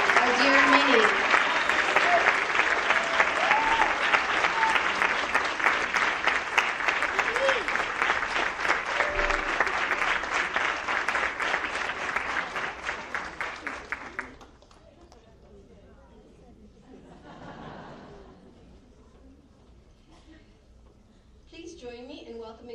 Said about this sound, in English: let's give a big round of applause to João Gabriel Ferreira de Macedo